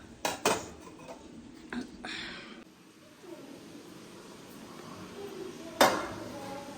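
A plate and a glass are picked up in a home kitchen for serving tea, with several sharp ceramic and glass clinks and knocks at irregular intervals, close by, between quieter handling noise.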